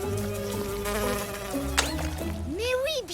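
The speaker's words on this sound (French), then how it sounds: "C'est ta bave qui empêche les moustiques de me piquer." Mosquitoes buzz in a cartoon, a thin whining drone layered with music and sliding tones, fairly loud and continuous for a few seconds.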